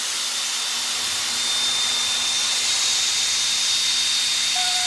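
Dyson hair styler running close up, a loud, steady airy hiss with a faint high whine throughout, no voices.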